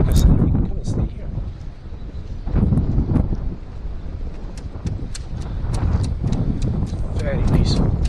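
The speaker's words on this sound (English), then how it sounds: "Very peaceful, despite the wind." Wind blowing outdoors at Pluscarden Abbey in Scotland, a steady rough buffeting roar across the microphone with gusts throughout, close and fairly loud, with faint clicks and knocks scattered through it.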